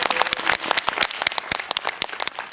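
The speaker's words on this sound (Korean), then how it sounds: "모든 감독님과 배우분들에게 먼저 박수 부탁드립니다" Audience applause at a Korean film GV screening at Lotte Cinema World Tower for the director and cast of the family film Big Family: dense, steady clapping from a theater crowd, close and sustained throughout.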